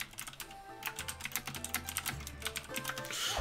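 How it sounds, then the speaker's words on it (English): Rapid, uneven clacking of keys on a noisy mechanical keyboard, close and fairly quiet, with the keystrokes running together in quick bursts over a faint low hum. "I'm typing. I've got a noisy mechanical keyboard."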